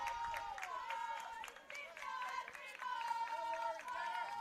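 Spectators cheer loudly and steadily at a women's college softball game against Mercy University, a full-count pitch moment, with excited voices, whistles and chatter blending into a bright, continuous crowd roar.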